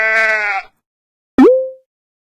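A sheep gives a single bright, wavering bleat lasting just over half a second. A brief voice follows after a short pause.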